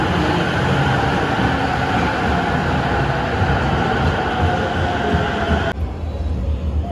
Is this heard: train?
yes